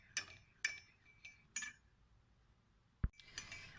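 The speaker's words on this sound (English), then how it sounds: "I'm going to add 1 tablespoon of honey and I'm going to mix it nicely." A spoon clinks against a glass while stirring honey into cardamom water, giving a handful of separate bright, close taps spaced apart, one sharper knock, and then a quick cluster of clinks.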